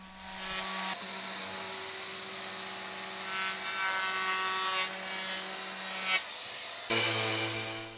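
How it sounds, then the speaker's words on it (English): A small Bosch trim router rounds over the edge of a wooden boot bench, its steady high-pitched whine rising as it bites the wood and cutting out near the end, loud and close with no speech. "I get the bit, put in my little Bosch trimmer, and add that on."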